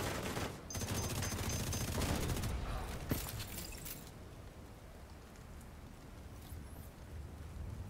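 Heavy gunfire in The Division 2 video game: a loud, dense burst of rapid shots for the first few seconds, then a sharp single crack before fading to quieter background noise.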